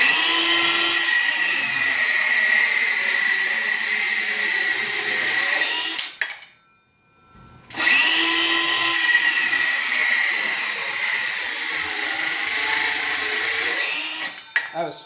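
A Milwaukee M12 FUEL 5-3/8" cordless circular saw screams through wood in two long, steady cuts separated by a short silence, with the motor bogging slightly under load near the end.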